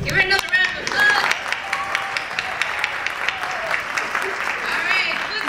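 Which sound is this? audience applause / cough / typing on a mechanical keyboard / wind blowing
audience applause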